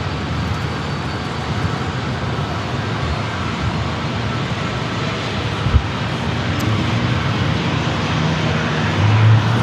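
A Hawaiian Airbus A321neo at San Diego airport makes a distant, steady roar of jet engines that holds at a moderate level and swells slightly toward the end, with no voices.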